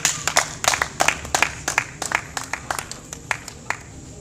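A church congregation applauds and cheers for a prophet at a worship service, sharp irregular claps from many hands with a crowd murmur beneath, voices faintly present in the background.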